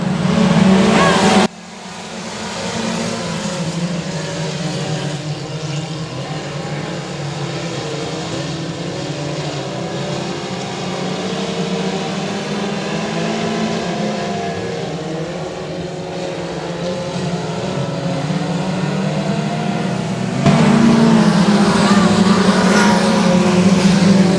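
Race cars roar around the dirt oval at Boothill Speedway, a steady dense engine drone from the pack throughout, swelling louder toward the end, with a higher surge as cars pass close.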